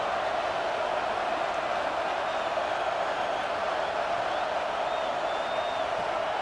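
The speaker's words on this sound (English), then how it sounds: "Listen to this crowd just shaking the girders of this place, trying to help their defense" A college football stadium crowd in EA Sports College Football 26 roars loud and continuous, a dense sustained wash of cheering with no breaks.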